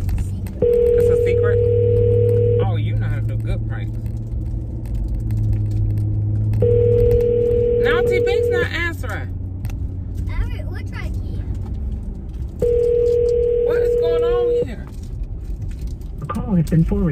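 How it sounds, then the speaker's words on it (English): A phone call's ringback tone repeats in three long, evenly spaced beeps over a low rumble, with people talking between and over the tones. "Maybe we should just call T Bing's phone and tell Pia to answer her phone"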